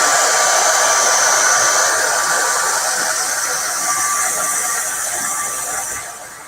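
An electric hair dryer blows steadily and loudly close up, drying black ink outlines on a retro 90s-style character painting, its airy whine tapering slightly toward the end.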